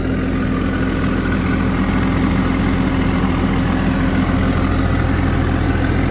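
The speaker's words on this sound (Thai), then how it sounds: "เครื่องยนต์ครับผม" The new engine of an S9000 rice harvester runs at a steady, continuous idle, a close, even drone with a low rumble and a faint high whine, with no talking.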